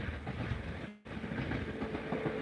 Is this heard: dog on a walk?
no